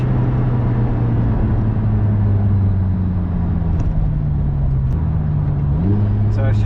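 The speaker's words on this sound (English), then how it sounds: "Rev match is fantastic." Lotus Emira engine in motion, a steady loud drone with pitch sliding lower, then a quick rise near the end as revs are blipped on a downshift; a voice speaks over it.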